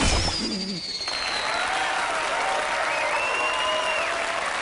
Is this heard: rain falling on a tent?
no